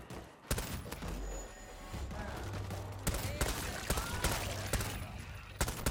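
Rapid gunfire bursts from the zombie shooter video game World War Z, Moscow campaign, sharp repeated shots cracking over a steady background of combat noise, with a player's voice talking faintly under the shooting.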